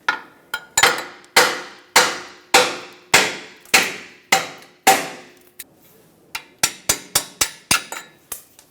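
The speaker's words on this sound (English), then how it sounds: "I'm going to try and punch this one through." A crusty bolt punched out of a catalytic converter on a 1995-2004 Toyota Tacoma with a hammer, loud ringing metallic strikes about one per second, then a faster run of lighter taps.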